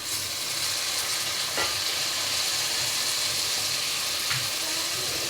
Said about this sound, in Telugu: ఇందులోనే మనం క్లీన్ చేసి పెట్టుకున్న రొయ్యలు కూడా వేసేసుకుందాం